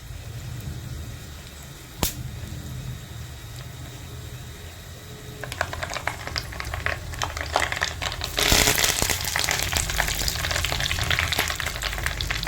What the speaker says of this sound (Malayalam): വറവ് കൊടുക്കാനായിട്ട് മുഴുവൻ മുളക് ഉലുവ കടുക് പിന്നെ വേപ്പില എല്ലാം കൂടി നമുക്കൊന്ന് വറുത്തൊഴിക്കാം